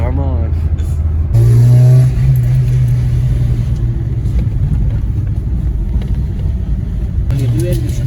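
Renault Super 5 GTS engine and exhaust echoing loudly between narrow street walls, a steady rumble with a rising rev near the start and sustained throttle throughout, with voices talking over it.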